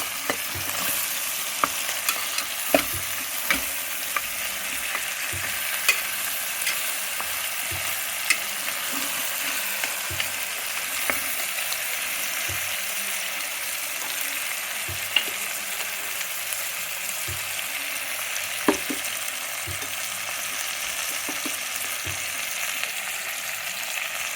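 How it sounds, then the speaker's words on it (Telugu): Onions frying in a pan with cloves, cinnamon, cardamom and bay leaf, giving a steady close sizzle broken by light scattered stirring clicks, with no voices. "ముందు లవంగము, చెక్క, ఒక ఇలాచి, ఒక తేజ్పత్త వేసి ఉల్లిపాయలతో పాటు వేయించుకోవాలండి"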